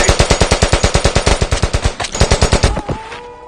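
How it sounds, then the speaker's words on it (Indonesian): Soldiers in an action film open fire with machine guns: a long, loud, rapid burst of evenly spaced shots, a short break, then more automatic fire that trails off into a ringing echo. "si ketua dan pasukan pun langsung melepaskan tembakan dan inilah yang terjadi."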